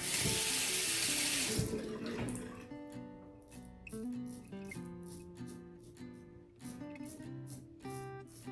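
Water gushes loudly from a tap for about two seconds while washing up after shaving, then cuts off, leaving quieter tonal sounds behind.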